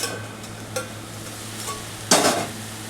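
A chigal leaf vegetable dish is stirred in a pan, with soft scrapes and light clinks of the spoon, one louder scrape near the end, and a faint sizzle underneath; no one speaks.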